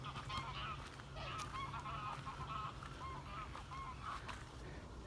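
Several geese honk repeatedly at a moderate distance, their calls overlapping against a steady low outdoor rumble.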